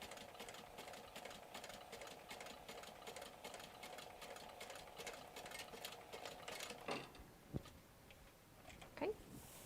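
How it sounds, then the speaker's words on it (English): A sewing machine stitches down a line on a crossbody bag's pocket panel, running in a steady mechanical whir for several seconds before stopping, followed by a few handling clicks. "I'm just going to stitch right down that line."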